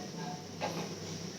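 Coconut oil heating in a pan for a homemade hair oil, giving a quiet, steady sizzling hiss with a brief louder crackle partway through and no voices.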